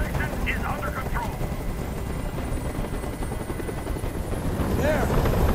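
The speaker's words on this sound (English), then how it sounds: "I can't stand that noise anymore. Tell that helicopter to get out of here." Steady, close helicopter rotor drone from Detroit: Become Human, a continuous throbbing roar filling the whole clip, with faint game effects and voices under it.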